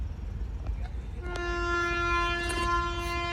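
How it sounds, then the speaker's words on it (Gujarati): An arriving train sounds a loud, sustained horn that starts sharply partway through and holds steady to the end, over a constant rumbling background. "ટ્રેન આવી આવી ગઈ એમ પરફેક્ટ ટાઈમ ઉપર"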